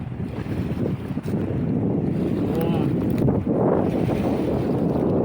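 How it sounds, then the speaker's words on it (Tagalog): Wind blowing across a beach, a loud steady rush of buffeting microphone wind noise that continues without a break. "Maganda naman yung hangin dito eh."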